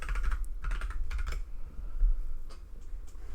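Fast typing on a Keychron computer keyboard, a rapid run of clicky keystrokes close up, then a pause and a few more scattered taps.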